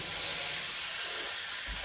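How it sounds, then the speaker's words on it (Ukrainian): Pieces of pork fat fry in a pan with onions, giving a steady, even sizzling hiss that holds constant throughout, close and alone without any talk. "Зараз я ще візьму шматочок сала, поріжу і кину теж до цибульки нехай смажиться."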